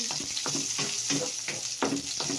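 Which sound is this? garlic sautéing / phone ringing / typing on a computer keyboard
garlic sautéing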